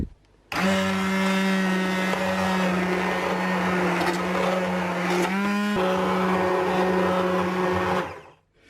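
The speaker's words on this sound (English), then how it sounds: "I'm just going to use my stick blender and blend until I've got a lovely creamy soup" A stick blender whirs steadily for several seconds blending root vegetable soup, its motor pitch shifting briefly midway, then cuts off; loud and close, no speech.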